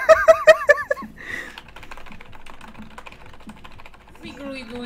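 Computer keyboard mashed rapidly during a Dead by Daylight gaming session, a burst of loud clicks in the first second followed by quieter, irregular key taps, with someone talking and laughing over it.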